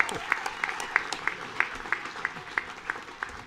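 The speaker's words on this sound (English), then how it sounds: "A big round of applause for the Hall of Fame head coach" Applause greets Hall of Fame head coach Leonard Hamilton on a coaches show, a crowd clapping with several sharp, distinct claps standing out near the front of the room.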